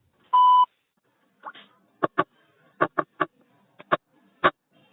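An automated IVR phone line for a TV quiz show registration gives one clear, steady electronic beep before keypad entry, followed by a series of short, sharp tonal blips spaced irregularly against silence.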